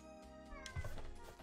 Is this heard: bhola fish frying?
no